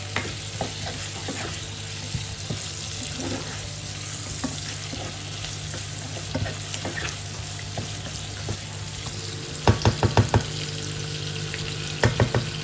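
Garlic, onion and ginger sautéing in a hot pan give a steady, soft sizzle, with occasional scrapes and clinks of stirring and a few sharper utensil knocks near the end, and no talking.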